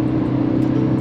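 A Tata Nexon diesel facelift speeding up on the road, its engine and road noise forming a steady, loud, continuous rumble with no voices.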